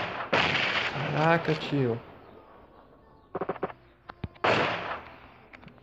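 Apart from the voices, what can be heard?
gunfire in the video game PUBG Mobile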